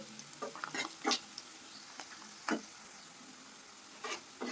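Snakehead fish pieces fry in a pan for a tamarind fish curry, a soft steady sizzle punctuated by a few scraping stirs and clicks of a utensil, close and quiet.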